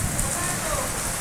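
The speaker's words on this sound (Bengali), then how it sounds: "বৃষ্টি নেমেছে আমাদের এখানে, কি সুন্দর বৃষ্টি নেমেছে" Heavy rain pours steadily at night in a Bengali village setting, a dense continuous hiss close by with no distinct thunder, lasting only a moment.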